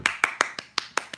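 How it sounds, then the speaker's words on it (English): A single person clapping, seven crisp hand claps in a steady, slightly uneven rhythm, close and clear with nothing else around them. "A round of applause"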